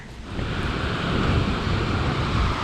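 Rough sea waves break against rocks at Kola beach in Goa, a loud, continuous roaring wash of surf heard up close with no voices.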